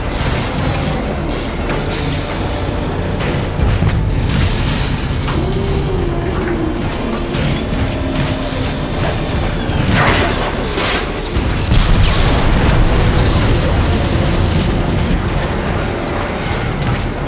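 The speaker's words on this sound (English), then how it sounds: "The shields have taken a beating from those warp cannons." Warp cannon blasts pound the Ark in Transformers: Fall of Cybertron: loud, dense booms and crashing impacts over rumbling mechanical noise, with heavier hits around the middle and near the end, and no talk.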